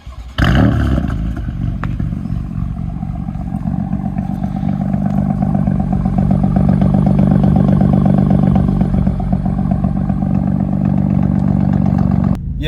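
A stage 1 BMW M4 tuned to about 500 bhp idles while warming up, a steady, loud, close engine drone with a faint clattering texture that holds throughout with no voices.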